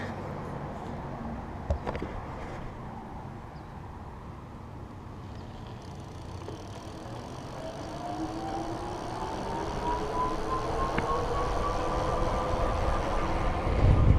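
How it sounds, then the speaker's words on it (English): An electric bicycle motor in throttle mode, a 2015 Raleigh Venture-iE, whines rising steadily in pitch as it speeds up to 20 mph, heard over rumbling road and wind noise, close and moderately loud. "show you what the motor sounds like here"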